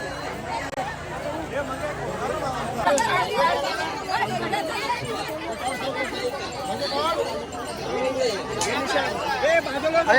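Dense crowd chatter at a packed village arch during a festive gathering, continuous overlapping voices forming a loud, steady babble with no single speaker standing out.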